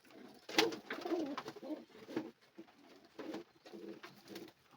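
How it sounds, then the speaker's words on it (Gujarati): Pigeons coo softly in a series of low throaty calls, close by and fairly quiet, repeating in short bursts. "આ રીતના કંઈક આપણા કબૂતર છે બધા"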